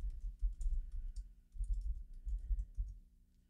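Username and password being typed on a computer keyboard, light irregular key clicks in quick runs over a low steady hum, fairly faint, with no talking.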